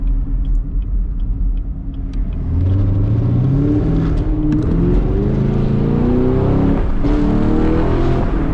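A Chevrolet Camaro SS V8 heard from inside during a late-night drive, holding a steady low rumble and then accelerating hard from about two and a half seconds, its revs climbing loudly and continuously with no one speaking.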